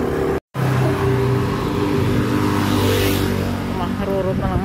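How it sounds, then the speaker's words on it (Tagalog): Traffic rumbles steadily along a roadside as vehicles pass close by a pedestrian walking at the edge of the road, a loud continuous engine and tire roar with a brief dropout near the start. "Makarurot na lang ang mga sasakyan dito."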